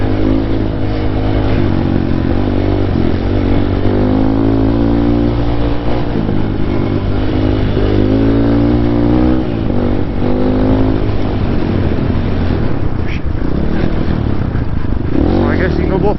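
GPX Moto FSE dirt bike riding a trail in second gear, a steady close engine drone with slight rises in revs and clattering over rough ground.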